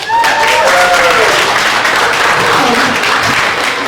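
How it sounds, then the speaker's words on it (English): A comedy club audience at the Houston Improv claps and cheers loudly, a thick wash of hands and whoops, with a voice briefly heard over it near the start. "Clap your hands."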